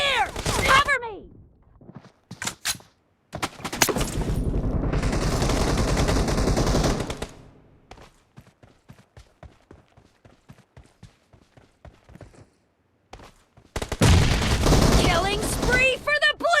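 Rapid bursts of Skorpion pistol fire in a video game team deathmatch, loud and close, in long sustained volleys separated by quieter stretches of scattered shots and footsteps.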